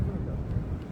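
Low, rumbling wind buffets the microphone steadily throughout, a muffled roar with no clear talk.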